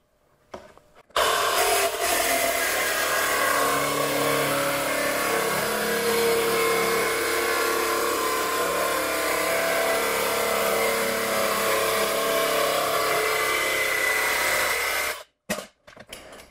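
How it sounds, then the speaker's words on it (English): Steel edge being cut for a bomber seat with a simple hand-held tool: a loud, continuous, rough grinding roar runs for about fourteen seconds without pause, then stops abruptly. "I'll cut this edge first."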